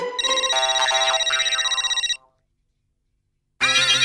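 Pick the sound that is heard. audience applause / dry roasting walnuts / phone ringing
phone ringing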